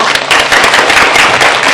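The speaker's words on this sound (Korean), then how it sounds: "모두 지원 사격 해주셨던 학생들에게 박수 부탁드립니다." Audience applause for the students who supported a youth debate team at a debate contest, steady dense clapping filling a short span without pause.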